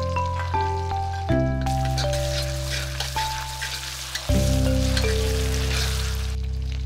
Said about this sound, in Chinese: 先爆香大蒜、生姜片、干辣椒段、花椒、 豆瓣酱